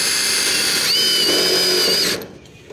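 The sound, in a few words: drill driving screws through gutter guard mesh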